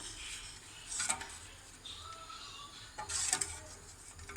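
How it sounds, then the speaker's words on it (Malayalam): Faint metallic scraping and clinking of a spoon stirring food in a cooking pot, with two short bursts of stirring separated by quieter moments in a kitchen. "നന്നായിട്ട് ഇളക്കി കൊടുക്കാം"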